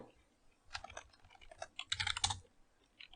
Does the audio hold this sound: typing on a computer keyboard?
yes